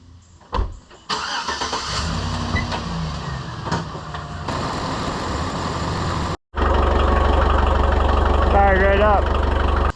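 A Bobcat 743 skid steer's engine cranks and fires up, then settles into a loud, steady idle close by, with someone speaking over it.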